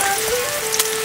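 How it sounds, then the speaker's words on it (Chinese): Scallion, ginger, garlic, star anise and dried chilies crackle in hot oil, giving a brief steady sizzle with a faint tonal hum behind it. "起锅烧油，油热放入大葱、姜片、大蒜、八角，放入干辣椒"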